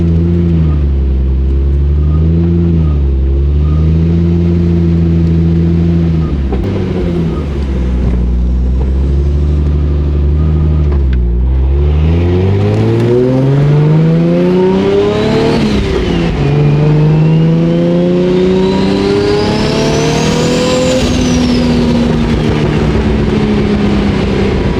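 A 1999 Nissan Skyline R34 GT-R V-spec driving on Los Angeles streets, its engine loud and steady, then dipping and climbing through several long accelerating pulls with rising pitch, heard from inside the car with no talking.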